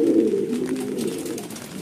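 A racing pigeon coos nearby, a low, throaty warble that rises and falls over a couple of seconds.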